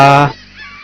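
A single loud, close honk from a goose-like bird in the Waterpark Simulator video game, cutting off sharply after a fraction of a second.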